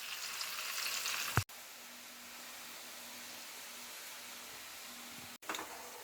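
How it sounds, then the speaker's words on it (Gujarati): Sweet potato wafers fry in hot oil on a low flame as a slotted spoon stirs them, giving a steady close sizzle with two sharp breaks where the sound cuts out briefly. "આ રીતે આપણે ઝારાની મદદથી એને આ રીતે હલાવતા હલાવતા ક્રિસ્પી થાય ત્યાં સુધી એને તળી લેવાની છે"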